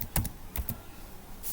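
Computer keyboard keys tapped a few times, a handful of soft close clicks in two quick bursts with a pause between, quiet against light room noise.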